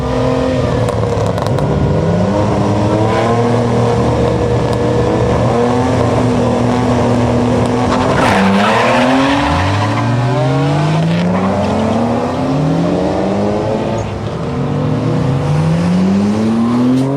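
Old modified Nissan Skyline cars race along a hidden strip in an industrial area, engines roaring and revving up through gears with rising whines, tires squealing and skidding; loud, sustained and close, with no speech.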